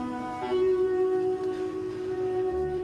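Steady electronic warning tones from a quiet electric school bus while driving, a sustained tonal hum under soft road noise, fairly near and continuous.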